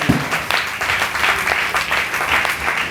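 A church congregation at a Sunday service applauds strongly, a dense continuous wash of many hands clapping together, loud and sustained throughout, with no speech on top.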